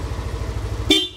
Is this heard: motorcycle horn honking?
yes